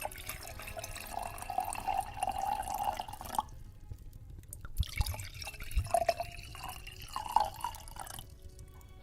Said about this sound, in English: tonight's drink, a lovely Spanish red wine to accompany it all. Here, I will pour you some.